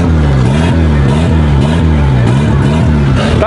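Car engine with no rev limiter cut at a drag-racing meet, revving loud and close in a steady rise-and-fall pattern, with repeated climbs and drops in pitch and no pause.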